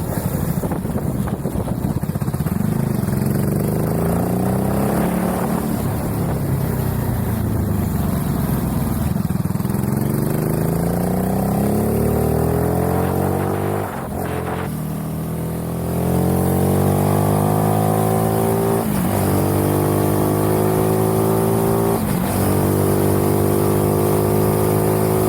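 A 2024 Mutt DRK 250 retro scrambler motorcycle engine running steadily and close, with a rising and falling drone that climbs through several revs and gear changes, loud and continuous without any talk.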